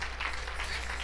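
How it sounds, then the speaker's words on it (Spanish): A church congregation claps in praise during a lively service, a dense, continuous wash of many hands clapping together, steady and fairly loud, with no voices clearly standing out. "Dele palmas al Señor"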